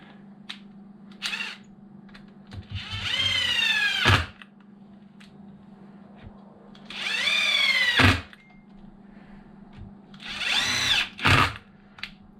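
A power drill drives screws during an off-road speed build, heard as three separate rising, whining bursts with short pauses and quiet gaps between them. No speech.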